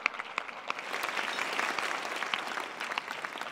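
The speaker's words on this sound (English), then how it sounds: "So I think that deserves a round of applause." Crowd at a community health partnership launch gives a round of applause, a thick continuous clatter of many clapping hands with individual claps popping out, moderately loud and steady.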